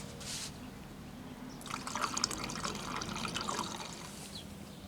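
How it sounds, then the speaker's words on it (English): Water trickles and drips into the tanks of a small coal-fired 5-inch gauge steam locomotive, a soft steady run that swells into a busier splashing flow partway through, close by with no talking. "I want to make sure that both tanks are getting full"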